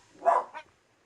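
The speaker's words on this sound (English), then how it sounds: "Oh no, my dogs are getting barky on me." A dog gives a single short bark followed by a quick softer yelp, close and otherwise quiet.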